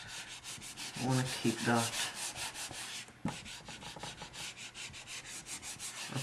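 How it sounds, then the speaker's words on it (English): Rubbing out writing on a board during a maths lesson gives steady, close scrubbing strokes that run almost throughout, with brief speech near the start. "I'm gonna rub some of this out."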